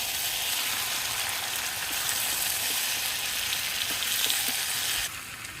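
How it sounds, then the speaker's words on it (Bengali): Meat and potatoes sauté in a pan with a loud, dense, unbroken sizzle heard up close, dropping slightly in level just before the end. "এই যে আলু আর মাংস এখন একসাথে আর একটু কষানো হবে"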